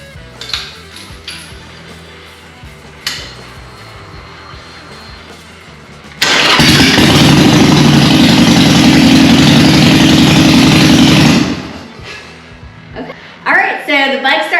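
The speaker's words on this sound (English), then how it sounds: "I am going to go ahead and start the bike so that I can make sure that it's going to start" A motorcycle cranks briefly, then fires up and settles into a loud, steady rumbling idle for several seconds before being shut off, with clicks and handling noises before the start and a voice talking afterward.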